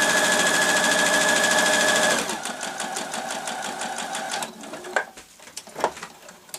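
Sewing machine stitching a fabric knitting needle case with a back tack, a loud continuous whirr that drops into slower, pulsing stitches, followed by a few clunks as it stops.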